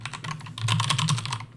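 A computer keyboard is typed on as a username is entered, a quick, close run of soft key clicks that grows denser in the middle and then trails off, with no talking.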